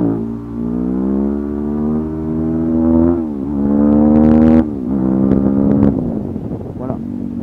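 Suzuki DRZ 400 SM single-cylinder motorcycle engine running close by, its pitch rising and falling through revs with a sharp throttle burst midway, under steady French-speaking talk.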